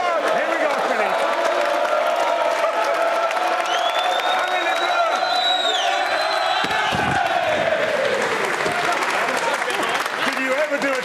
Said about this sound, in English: a massive cheer and a wind-up for Philippe Saint-André